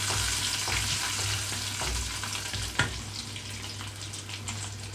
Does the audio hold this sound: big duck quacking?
no